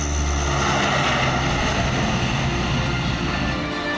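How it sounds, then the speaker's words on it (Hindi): Indian Air Force fighter jets roar during a touch-and-go rehearsal on an airstrip built on the Purvanchal Expressway, a loud, continuous engine rumble that stays steady throughout with no voices. "भारतीय वायुसेना के लड़ाकू विमानों ने पिछले 2 दिनों में पूर्वांचल एक्सप्रेसवे पर बनाई गई हवाई पट्टी पर टच एंड गो का रिहर्सल किया"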